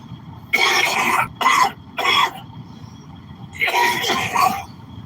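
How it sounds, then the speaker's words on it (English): Several harsh, raspy coughs close to the mic: three quick bursts in a row, a pause, then a longer coughing fit. "this cough is killing me"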